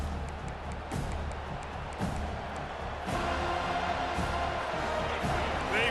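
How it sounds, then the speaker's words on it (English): Stadium crowd at a college football game roaring steadily and loud throughout, a dense wash of cheering with occasional thuds, while a voice talks over it. "Listen to this crowd."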